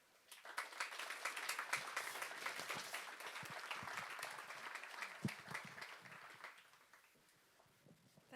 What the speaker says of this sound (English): May I ask you for the warmest applause possible for Miriam John.